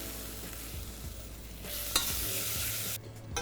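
Carbonara is stirred into a hot pan with butter and black garlic, giving a faint, steady sizzle with soft scraping and a small clink partway through.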